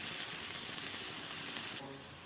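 Chilies hit softened onions in a hot pan, setting off a steady, loud sizzle and hiss that runs throughout, easing slightly near the end.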